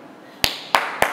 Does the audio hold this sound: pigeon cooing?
no